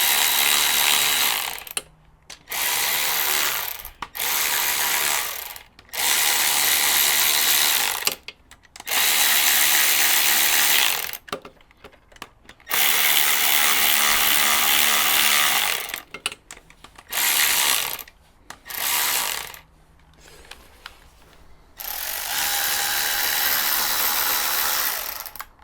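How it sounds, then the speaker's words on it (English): A ratchet or power driver snugs down bolts on a Honda Hornet CB600 motorcycle during a valve adjustment, in loud close bursts of whirring a second or several seconds long, separated by short silent gaps. "we're not going mad on each individual bolt, we're just snugging it down"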